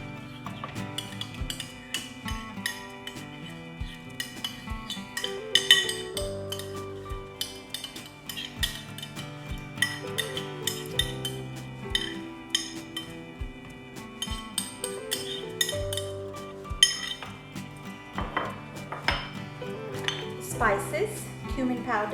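Utensils clink against a bowl as yogurt is added to lamb being marinated for kadahi pasanda, with repeated light metallic taps and scraping, steady and close, over a continuous backdrop of music.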